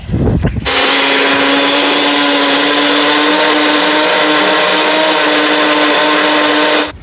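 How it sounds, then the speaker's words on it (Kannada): Mixer grinder blending fried green chillies with salt into chutney: after a brief clatter, the motor kicks in with a loud, steady high whine that runs unbroken until it shuts off at the end. "ಈಗ ಐತಲ್ಲ ಮಿಕ್ಸಿ ಒಳಗೆ ಗರ್ ಅಂಥೇಳಿ ಹಾಕ್ಬಿಡು ನೋಡ್ರಿ ಅದಕ್ಕೆ"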